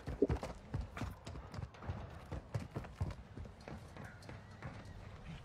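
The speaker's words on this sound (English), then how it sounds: "Somebody's here. I heard their footsteps." Footsteps of someone approaching in a video game: a run of sharp, evenly spaced steps that sound close and fairly loud, each with a hard clip-clop quality, with no one talking over them.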